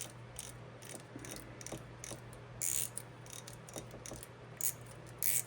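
Drag of a Shimano Sahara 1000 front-drag spinning reel spun by hand during a service, giving a steady run of soft, close ratcheting clicks with a few brighter bursts.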